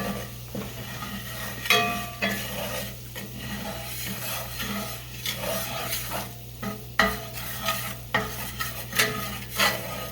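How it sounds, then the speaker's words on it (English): Flour browns in a pan for a hot German potato salad dressing with bacon, giving a steady close sizzle broken by frequent scraping, stirring strokes and occasional utensil clinks; no talking. "we're going to just brown this flour just a little bit"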